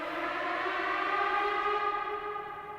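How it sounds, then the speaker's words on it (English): A siren sample sits within a music track, pitched so it lands on the right note; a loud, steady wailing tone with layered harmonics holds for about three seconds, then begins to fade and drop away at the end. "this little siren I found, a little sample."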